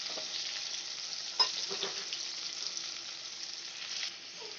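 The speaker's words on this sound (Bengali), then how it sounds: "এবার আলুগুলো আমি লাল করে ভেজে তুলে নেব।" Potato pieces fry in oil with salt and turmeric in a pan over a low gas flame, giving a steady, soft sizzle with a couple of brief stirring clicks.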